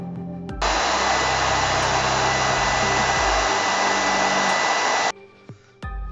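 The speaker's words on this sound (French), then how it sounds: "le sèche-cheveux là il s'y prête très bien pour sécher déjà cette couche là." A hair dryer drying a layer of paint on a ping pong ball blows loudly and steadily for several seconds, then cuts off abruptly, followed by a short burst of it switching back on.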